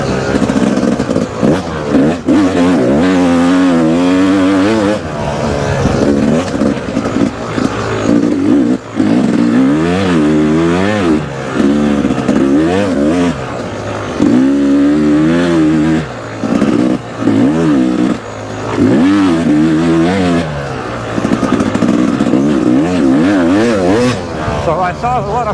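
A Yamaha YZ250X two-stroke dirt bike revs repeatedly while riding enduro, its engine rising and falling in rapid bursts close to the microphone, with a rider talking over the engine noise.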